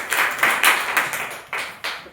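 A small group gives a short burst of clapping for a child in a classroom, the uneven claps bunched close and loud for about two seconds.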